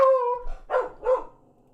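Two sharp barks from a dog at home, close and loud, following a brief whine or yelp at the start, with no talk over them.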